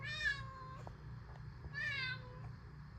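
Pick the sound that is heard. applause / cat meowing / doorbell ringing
cat meowing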